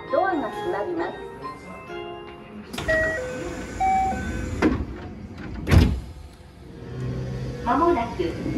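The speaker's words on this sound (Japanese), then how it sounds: "ドアが閉まります。" JR Osaka Loop Line train doors slide shut with a whoosh and a thud, followed by a short sharp clunk, amid faint Japanese announcements and chime tones.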